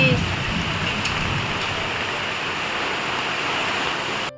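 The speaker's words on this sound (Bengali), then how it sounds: "বৃষ্টি পড়ছে" Heavy rain falls during a dark, cloudy midday at a Bengali home, a dense, steady hiss of downpour that stays loud and even throughout.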